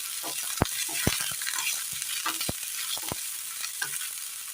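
A tomato mixture for a jackfruit seed dish sizzles in a pan under constant stirring. Sharp spatula knocks and scrapes land every second or so over a continuous frying hiss.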